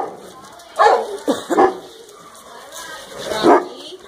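A dog in a mixed room of dogs gives several close, sharp barks and yips with whimpering between them, while a person talks nearby.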